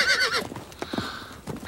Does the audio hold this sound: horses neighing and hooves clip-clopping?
yes